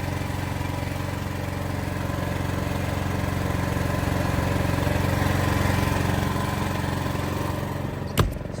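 A repaired portable generator's engine runs steadily and loudly up close, a constant mechanical drone with a sharp click or thump near the end.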